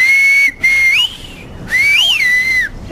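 A woman in Antia village on Evia gives loud, piercing whistles close by, two long sustained calls with wavering, bending pitch separated by a brief pause, clear against quiet outdoor background.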